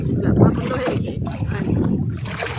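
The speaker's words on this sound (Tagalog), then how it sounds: "huwag man ipundo yung motor" A small boat motor runs on the water near Kawayan, Masbate, a steady low drone throughout while someone talks over it.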